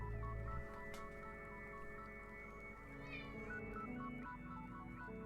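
A pet cat named Luna meows briefly and faintly indoors beneath a loud, steady tonal engine drone from a racing game.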